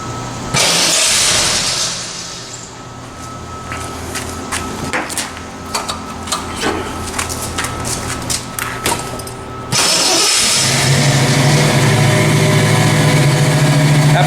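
A hot rod's engine cranks with rapid starter clatter, then catches and settles into a loud, rough, throbbing idle close by.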